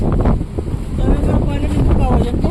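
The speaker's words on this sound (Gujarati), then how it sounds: "તો પવનનો અવાજ બહુ આવતો હે બરાબર, કારણ કે વાવડો જેવો છે" Strong stormy wind at the coast among fishing huts, buffeting the microphone in heavy, continuous gusts that roar and surge without a break.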